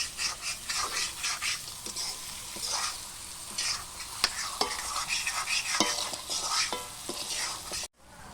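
Chicken and mutton cook over a wood fire, with continuous close sizzling and frying, repeated stirring scrapes and occasional sharp clicks of utensils against the pot.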